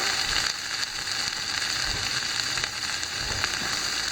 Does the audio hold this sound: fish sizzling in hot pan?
yes